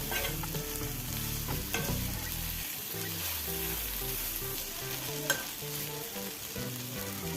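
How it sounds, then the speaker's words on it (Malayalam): Onions and grated coconut sauté in a pan for chutney: a steady soft sizzle and frying crackle with occasional stirring scrapes and clinks, close and continuous with no talk. "ഉള്ളിയെല്ലാം ഒന്ന് വാടി വരുമ്പോൾ ഒരു ടേബിൾ സ്പൂൺ വരെയുള്ളൂ തേങ്ങ കരുവേതും ചേർത്ത് കൊടുത്ത് ചെറുതായി ഒന്ന് വാട്ടിയെടുക്കണം"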